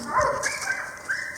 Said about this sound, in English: you're going to hear barking dogs in the background